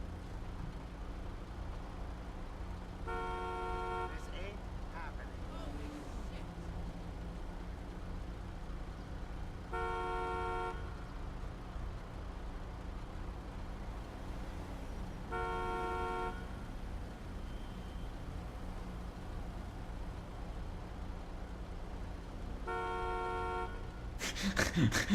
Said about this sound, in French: Il va me saouler à klaxonner lui derrière